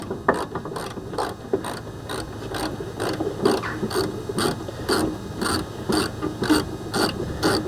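An impact driver hammers at a seized bolt on a Honda Stepwgn during anti-roll bar link and rear brake work, giving a loud, close, steady ratcheting rattle of rapid impacts with regular pulses.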